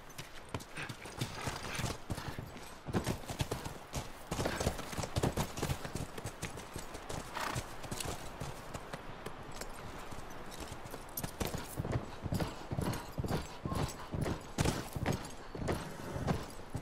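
Horse hooves clip-clop steadily in the video game The Last of Us, a quiet, continuous rhythmic trot heard alone.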